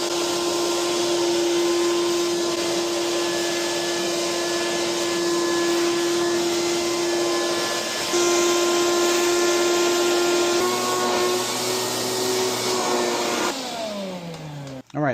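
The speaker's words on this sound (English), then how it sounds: "it looks like we've got ourselves a working wet, dry shop vac" A wet/dry shop vacuum runs at full power, a loud steady roaring whine with a constant high tone that shifts slightly before it winds down and cuts off at the end.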